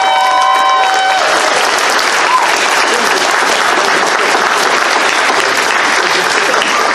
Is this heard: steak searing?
no